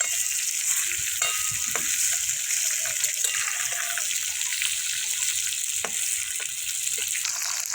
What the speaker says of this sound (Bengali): মাছটা ভাজা হয়েছে মাছটা খুব একটা বেশি ভাজবো না আমি